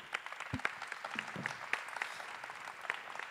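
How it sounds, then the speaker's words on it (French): A small audience at a French aircraft-design talk applauds a presenter, with faint, sparse claps spread across a few seconds at low level. "je crois qu'on peut l'applaudir"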